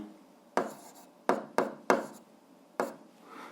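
Algebra written by hand on a board or paper gives five short, sharp scratching strokes at irregular intervals, close and moderately loud against quiet.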